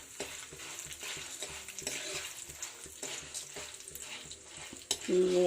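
Dried red chillies fry in hot oil with chana dal and urad dal in a pan while making tomato chutney, giving a steady close sizzle with stirring scrapes and a louder burst of frying near the end.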